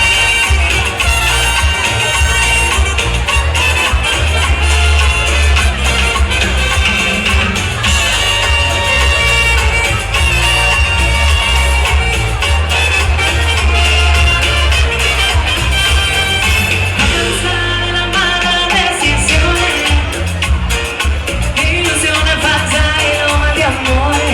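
A live band plays upbeat cumbia at the San José festival in Teixeiro, Spain, with steady rhythm and bright melodic lines, loud and continuous, with crowd noise mixed in.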